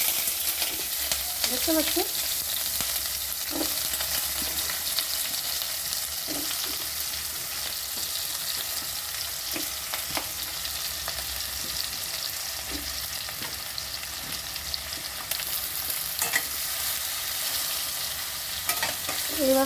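Green chillies and eggplant sizzle in a pan, a continuous loud frying hiss with repeated scraping stirs, and a brief spoken remark partway through.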